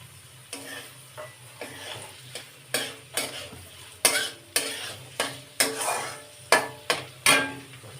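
Onion stirred and fried in a pan for a chicken dish, a soft continuous sizzle broken by about a dozen sharp, regular spatula scrapes and clanks against the pan, close up with no talk.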